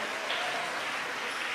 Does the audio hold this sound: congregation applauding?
yes